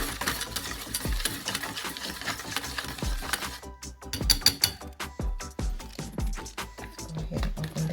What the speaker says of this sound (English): Give it another mix